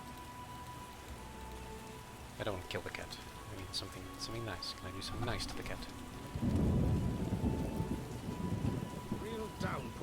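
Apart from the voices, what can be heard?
heavy rain downpour with thunder in video game The Witcher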